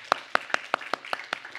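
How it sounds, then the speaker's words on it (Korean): A small church congregation claps in a steady, even rhythm, about seven claps spaced evenly, moderately near and fairly soft, with no talking. "우리가 박수로 한번 격려해 드릴까요?"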